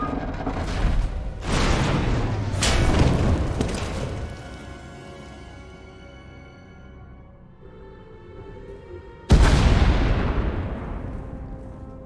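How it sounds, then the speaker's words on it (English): Deep booming blasts rumble and roll in Star Wars: The Old Republic video game, a few heavy bursts early on, then a quieter stretch before another sharp loud explosion rings out and slowly decays. "We heard explosions. The tunnel collapsed."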